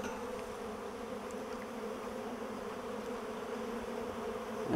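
Honey bees swarm around an opened Flow Hive during a frame inspection, giving a dense, continuous droning buzz of many insects at close range that stays steady throughout.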